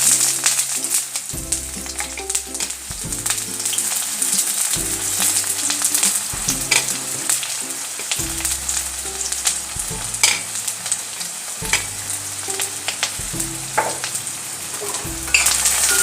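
Chopped onions frying in a pan for a spicy masala chicken curry, a loud continuous sizzle and crackle that runs steadily throughout, with background music underneath.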